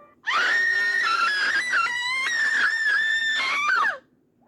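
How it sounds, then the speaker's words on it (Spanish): A woman's harrowing, drawn-out scream for a horror story, loud and close, wavering in pitch for about four seconds before cutting off sharply into near silence. "esa mujer dio un grito muy desgarrador"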